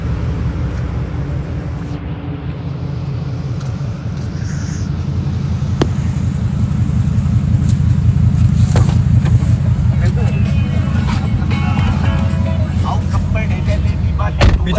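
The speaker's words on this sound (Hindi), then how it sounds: "अभी ये गाड़ी शांति में खड़ी है तो भी आवाज़ ही कर रही है।" A brand-new parked car idles with a low, steady engine rumble that swells slightly louder partway through, heard close up while people talk over it.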